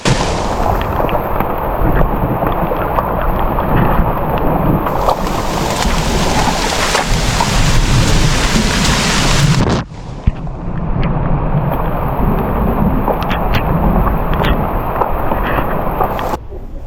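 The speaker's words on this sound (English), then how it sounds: "There must be nowhere on earth that rains as much as the Amazon." Heavy rain in the Amazon jungle pours down steadily in a dense, hissing roar, with a brief dip partway through before the downpour continues.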